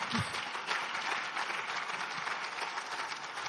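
Audience applause at a business fundraising Q&A session, a steady wash of clapping that holds at a fairly even level from start to finish, with no talking over it.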